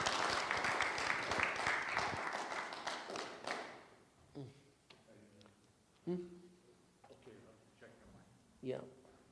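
Warm audience applause welcoming a reverend at a motivational church service, a loud burst of many hands that fades out after about two seconds, followed by scattered taps and someone speaking.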